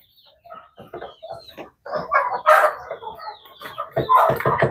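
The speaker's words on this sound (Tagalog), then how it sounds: "Yung manok ko, yung pinangwalisan ni RB, kinakain." Chickens on a goat farm cluck close by in several uneven bursts, growing louder partway through, with no talk over them.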